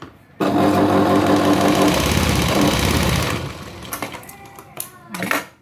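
A sewing machine stitches the edge of a lined blouse sleeve, running as a loud, steady whir for about three seconds. It then stops, followed by softer handling sounds and brief vocal noise.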